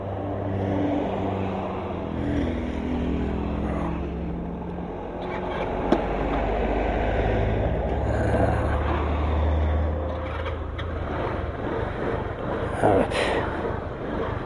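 A 150cc Mondial scooter with a freshly rebuilt engine runs steadily as it is ridden, a low, continuous engine drone with small shifts in pitch and wind noise, heard from close by for the whole stretch.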